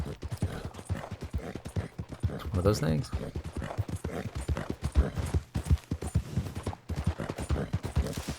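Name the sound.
Morgan horse hooves in video game Red Dead Online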